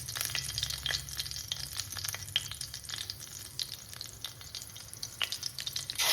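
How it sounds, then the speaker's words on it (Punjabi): Asafoetida powder frying with cumin and coriander in hot oil, stirred with a ladle in a pan for a cauliflower curry; a continuous close sizzle with scattered sharp scraping ticks from the stirring, no voices. "ਤੇ ਥੋੜਾ ਜਿਹਾ ਹਿੰਗ ਦਾ ਪਾਊਡਰ ਕੜਛੀ ਦੀ ਸਹਾਇਤਾ ਨਾਲ ਇਹਨੂੰ ਹਿਲਾ ਕੇ ਥੋੜਾ ਜਿਹਾ ਬਰਾਊਨ ਕਰਾਂਗੇ"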